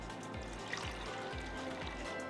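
Leftover boiled water is poured into a cooking pot, giving a steady trickling, splashing stream at moderate loudness with a faint repeating low thump underneath.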